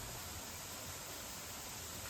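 A small, sparse waterfall trickles beside a limestone staircase as a faint, steady hiss of falling water, continuous and distant, with no other sounds.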